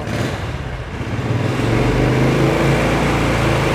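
A 2020 Royal Enfield Bullet 500 Classic with its original exhaust revs up nearby, the loud engine rumble swelling after a moment and then holding high and steady, with no voices.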